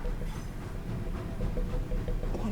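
A steady low rumble of rolling train wagons in a train simulator game, with dull, muffled clunks and bangs recurring underneath, no voices.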